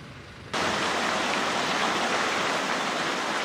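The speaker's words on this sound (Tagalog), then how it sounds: "Hindi na halos tumigil ang buhos ng ulan sa Binalio Landfill, alas 12 pa lang ng hating gabi." Heavy rain pours steadily on the Binaliw landfill in Cebu City at midnight, a dense, loud, unbroken hiss that swells in abruptly after a quieter first half second and then holds without pause.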